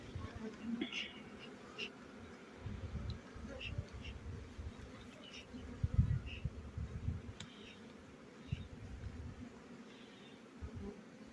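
A steady drone of honeybees buzzing around an open hive with exposed brood comb and fresh honey, continuous and fairly close, with occasional louder passes of individual bees.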